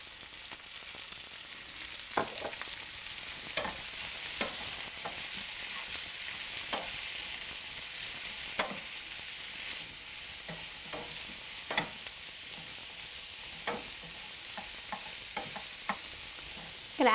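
Vegetables stir-frying in a pan with sesame oil, a steady hiss of frying broken by frequent sharp scrapes and taps of a utensil stirring, heard alone and at moderate volume.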